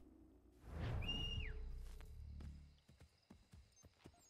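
In Assassin's Creed III, a horse whinnies briefly, followed by a series of sharp hoof clip-clops on a hard surface, fairly quiet and evenly spaced.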